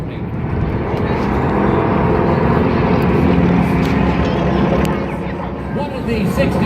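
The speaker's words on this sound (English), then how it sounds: "Listen to the roar of the engines" Aircraft engines roar during the Pearl Harbor attack as a loud, sustained broadband drone. It swells slightly in the middle and continues throughout.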